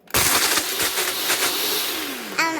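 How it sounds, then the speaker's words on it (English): A Ninja single-serve blender starts abruptly and runs loud and close with a dense, steady whir for about two seconds, then briefly shifts pitch near the end. "This is a Ninja blender, by the way."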